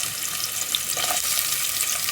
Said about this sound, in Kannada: ಈಗ ಒಂದು ಈರುಳ್ಳಿ ಹಾಕ್ಕೊಳ್ಳೋಣ